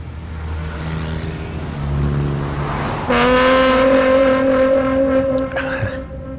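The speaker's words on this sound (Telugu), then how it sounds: "రండి అంకల్ నా కార్లో వెళ్దాం. కొత్త బండి అంకల్" A new car starts up and drives off, its engine rising to a loud, steady revving hum that swells partway through and then fades slightly at the end.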